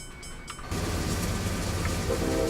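A freight train from Train Simulator 2017 running at about 50 miles an hour, a steady loud rumble with rail clatter that swells after a brief quieter opening, no talking.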